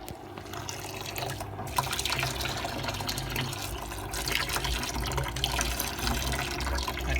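Bean soup drains out of a washing machine as a steady rushing, splashing flow of liquid, close and continuous, with faint dripping and no voices.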